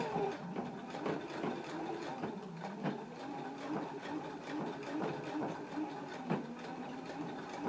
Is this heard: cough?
no